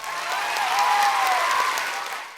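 Hands clap in a steady, dense burst of applause that swells and then fades out over a couple of seconds, with no voices over it.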